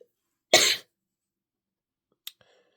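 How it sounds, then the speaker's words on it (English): A single sharp cough sounds up close, then silence, followed by a tiny click and a faint brief sound near the end. "had to pause again for a cough"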